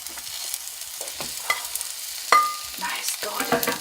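Vegetable dumplings frying in a pan give a soft, uneven sizzle with scattered light scrapes and clinks, moderately close and fairly quiet, with no talking.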